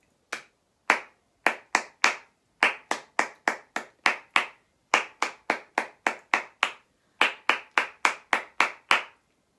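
Hands clapping out the rhythm of a children's rhyme, about two dozen crisp, close claps in short grouped patterns with brief pauses between phrases, no voices.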